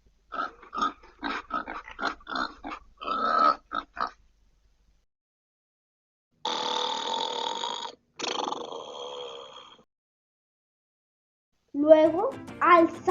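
Voices imitate piglets oinking in a Spanish children's bedtime story about snoring. Bursts of quick grunts come first, then long drawn-out snorting snores, with a brief childlike squeal at the end and quiet gaps between.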